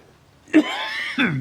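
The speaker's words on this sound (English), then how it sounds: "Excuse me, I've still got this cough and sore throat." A man with a lingering cough and sore throat gives one harsh, throaty cough followed by a second rasping clearing of the throat, loud and close.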